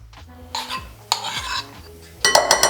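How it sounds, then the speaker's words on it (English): Vegan yogurt, Hellmann's vegan mayonnaise and curry powder mixed in a bowl with a utensil, giving a few short bursts of scraping and clinking, close and fairly loud, with quiet gaps between. "Season and then mix everything together."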